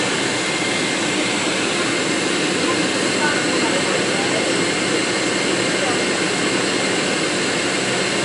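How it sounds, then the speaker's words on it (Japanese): A Turkish Airlines jet airliner taking off from Soekarno-Hatta International Airport in Jakarta, its engines producing a loud, constant, unbroken roar throughout. "それでは離陸です。"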